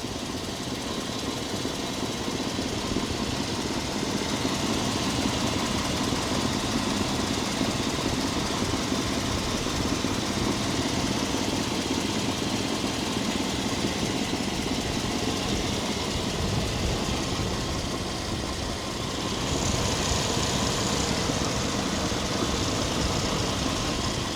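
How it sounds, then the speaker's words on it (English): A 1997 Chevy 1500 pickup engine idles steadily and close, with a possible lifter tick. The drone is even and continuous and carries a faint ticking rhythm. There is no talk, and the tone shifts slightly near the end. "I want y'all to listen and y'all tell me if it's a lifter tick"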